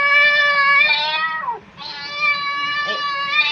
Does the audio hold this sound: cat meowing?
yes